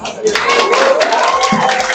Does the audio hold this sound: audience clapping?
yes